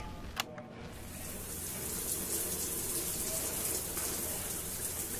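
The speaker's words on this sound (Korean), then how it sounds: "(11분) 동안 샤워를 하는 소리" A shower runs steadily, a continuous close hiss of spraying water, with a brief knock near the start.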